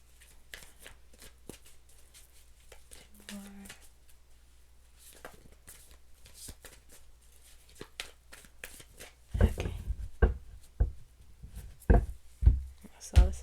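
Tarot cards shuffled by hand, with quiet riffles and taps at first, then a run of louder, sharp shuffling bursts near the end, close up, with a little talk in the background.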